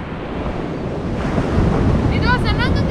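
Waves washing onto a beach roll on in a continuous rush with wind buffeting the microphone, swelling louder midway, while high voices chime in faintly near the end.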